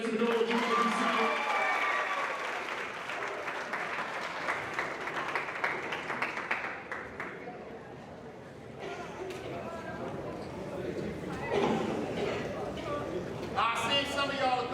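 A youth town hall audience claps and cheers loudly and steadily, a dense crowd noise that fades a little midway and then swells again in bursts.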